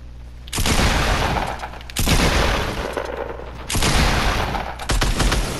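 Gunfire from the Fortnite video game: three or four loud, dense bursts of shots in quick succession, each burst lasting about a second and a half with brief dips in between.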